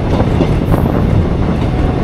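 The Deoghar–Patna MEMU Express Special, train 03273, pulls away with a loud, steady, close rumble of wheels and carriages, with no other sounds and no talking.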